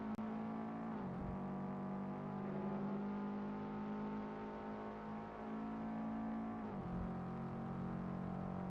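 Race car engine from the SimSpeed Sport Cup racing game, a steady loud whining drone holding pitch with two brief dips as it shifts or passes, continuous throughout.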